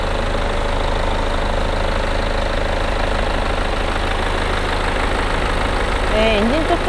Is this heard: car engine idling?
yes